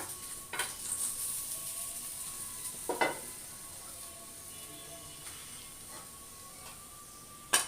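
Steady broadband sizzle of small fish frying in hot oil, continuous throughout, with a few soft clicks and a sharp clatter near the end.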